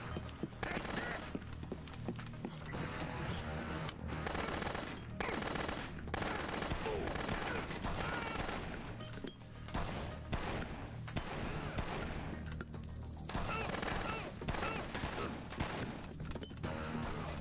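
Rapid bursts of gunfire in the video game Dead Rising on PS5, machine-gun rattles and sharp shots repeating in uneven clusters over a busy game soundscape, fairly quiet overall.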